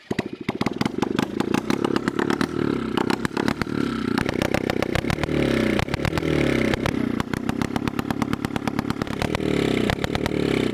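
A Bajaj 110cc motorcycle engine runs loudly and steadily nearby, its rapid firing pulses forming a continuous rattling drone with slight shifts in revving.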